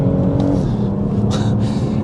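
A BMW M140i Shadow Edition engine pulls hard through the gears, its loud, close, steady drone running continuously with a brief break at a quick gear change.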